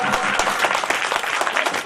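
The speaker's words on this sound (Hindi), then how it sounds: "पीछे तक तालियां उठें" Dense audience applause at a Republic Day poetry recitation, many hands clapping loudly and continuously in a full hall, with a faint murmur of voices beneath.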